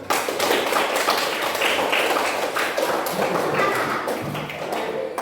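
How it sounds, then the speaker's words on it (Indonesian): Classroom of children clapping their hands together in a dense, steady burst of applause that fills the room for several seconds, with some voices mixed in. "Oke, tepuk tangan"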